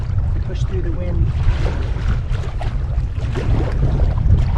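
Strong wind buffets the microphone on the Mississippi River while paddling, a constant loud low roar with faint water splashing beneath and someone talking over it.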